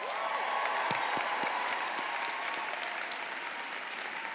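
Graduates at the CU Denver class of 2021 commencement ceremony fill the space with sustained, dense applause and cheering from a large crowd, steady and loud throughout.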